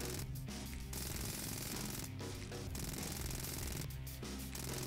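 SMG fire in the zombie shooter Yet Another Zombie Defense, a dense continuous rattle of rapid shots with a few brief pauses, fairly quiet in the mix and unbroken by talk.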